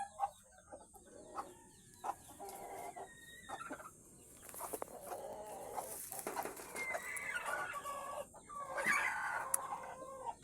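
A hen clucks softly over her newly hatched chicks, with irregular soft clucks joined by brief higher chirps from the chicks and a rooster crowing nearby.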